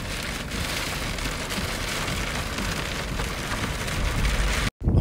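Steady rain pours down in a rural Saudi setting, a dense, even hiss of drops on surfaces filling the whole stretch without voices, ending with a brief cut and a few louder splashes.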